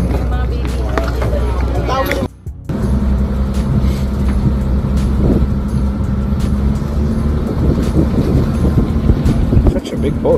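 A big boat moves through the sea off Davao with a steady low engine rumble and buffeting wind against the microphone, a short drop near the start, while people talk over it.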